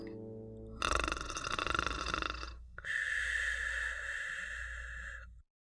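A voice imitates loud snoring, two long rasping breaths, one harsh snort followed by a drawn-out wheezy exhale.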